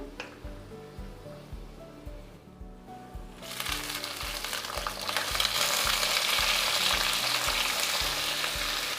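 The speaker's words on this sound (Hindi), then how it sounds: "आलू डालने के बाद 3 से 4 मिनट तेज़ आंच पर आलू को फ्राई करना है" Potatoes fry over high heat with golden-fried onions, a quiet sizzle at first that swells into loud, dense crackling frying with intermittent stirring scrapes, no voices.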